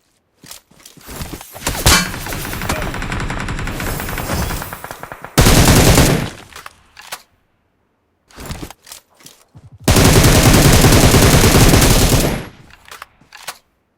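Video game gunfire rattles in long loud automatic bursts, with sharp single shots and short pauses in between, close and dense with no talk.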